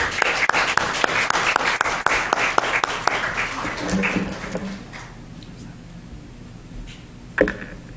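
A church congregation claps loudly for several seconds to welcome a missionary speaker, then the applause thins and fades into quiet room noise.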